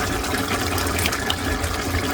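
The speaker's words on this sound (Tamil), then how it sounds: "மிக்சியை கழுவி அந்த தண்ணியை இதில் ஊற்றிடலாம்" Water is poured steadily into a cooking pot of horse gram curry, giving a continuous splashing, gushing sound at moderate loudness.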